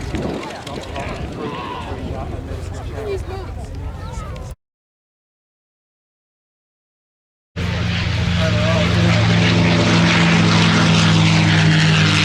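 A Hangar 11 P-51 Mustang warbird roars at Duxford, its propeller engine loud and droning in two spans separated by a stretch of silence, with a commentator speaking over it.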